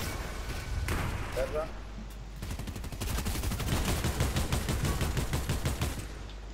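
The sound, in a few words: gunfire in the video game Fortnite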